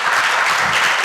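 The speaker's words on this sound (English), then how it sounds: "Let's give him a big round of applause." An audience at a youth talent day claps in dense, steady applause that fills the whole brief moment, close and fairly loud.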